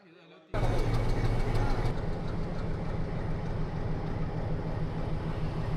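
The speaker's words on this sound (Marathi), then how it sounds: "हे उटीची प्रसिद्ध टॉय ट्रेन ज्याचं खरं नाव आहे निलगिरी माउंटेन रेल्वे" After a quiet moment, the Nilgiri Mountain Railway toy train engine's loud, steady rumble starts suddenly in Ooty and continues at a constant idle, close by.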